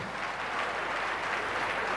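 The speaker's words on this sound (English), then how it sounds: "Clap for Dr. Jesus" A church congregation claps in a dense, steady burst at moderate level, sustained for the whole moment with no voices over it.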